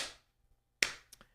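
Slow clapping imitated by a voice or hands: one sharp clap after a pause, then a second lighter clap, close and dry in a quiet room.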